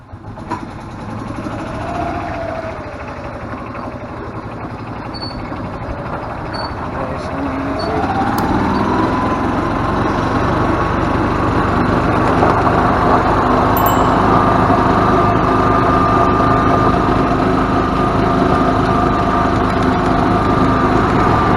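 A gas-powered cart's small engine runs continuously while driving, a steady buzzing drone that climbs in pitch and grows louder partway through, then holds an even, smooth note, close by.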